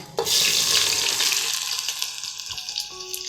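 Soya chunks drop into hot oil in a pressure cooker on a gas stove, setting off a loud, steady hiss and sizzle that gradually softens.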